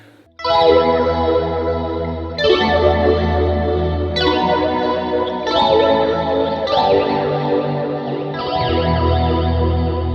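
An electric guitar runs through a phaser pedal with echo engaged, ringing out a series of about five strummed chords at roughly two-second intervals, each swirling and trailing off into the next.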